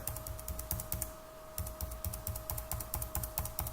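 Rapid keystrokes on a computer keyboard in uneven bursts and short pauses, close and clear over a low steady hum, with no talking.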